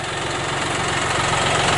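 A John Deere 5075 tractor engine runs at a steady idle nearby, a constant low throbbing drone with a faint mechanical rattle and no change in pitch.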